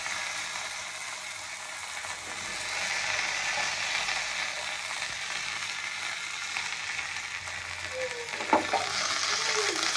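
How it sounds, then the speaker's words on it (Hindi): Steady crackling sizzle of curry leaves, red chilies and mustard seeds frying in hot oil for a South Indian tempering, continuous and close, with a brief clatter near the end. "हमारा तड़का हो गया।"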